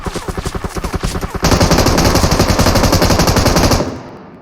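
Automatic gunfire in the mobile game PUBG Mobile: a run of rapid, evenly spaced shots gives way to a louder, denser stretch of continuous fire, close and dominant, then stops abruptly.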